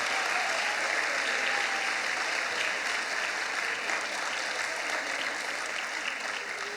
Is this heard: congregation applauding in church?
yes